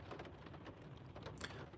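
Rain falling outdoors, a faint, steady patter and hiss with scattered drops standing out, heard alone without talk.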